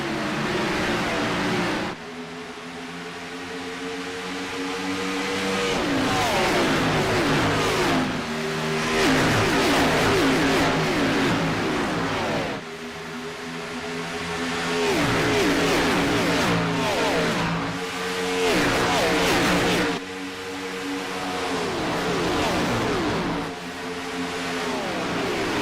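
Race cars in the iRacing sim game surge off at the green flag at Chicagoland, a loud, continuous roar of many engines revving and climbing through gears in repeated waves, with no talk.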